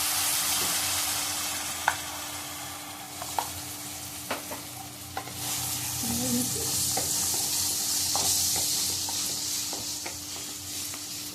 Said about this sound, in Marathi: आंब्याचा रस आपण चांगला शिजून घेऊया